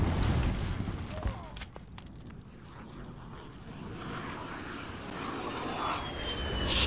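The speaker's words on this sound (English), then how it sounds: "Enemy VTOL in the AO." Enemy VTOL aircraft in the Call of Duty Modern Warfare video game, a steady jet-like engine roar that holds through the clip and swells toward the end, mixed with gunfire-like thumps and game ambience.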